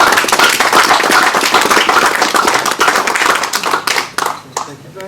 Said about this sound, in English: we will, in the usual way, do a round of applause